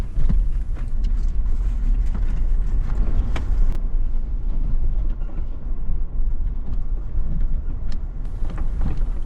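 Steady rattling and rumbling from a vehicle crawling over a rough off-road trail heading down into Paradox Valley, loose clatter and knocks running continuously under the engine noise.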